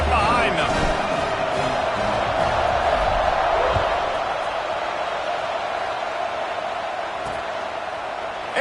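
A stadium crowd roars steadily through a college football kickoff, Grambling hosting New Mexico State, the broad cheering loud and sustained before easing slightly toward the end.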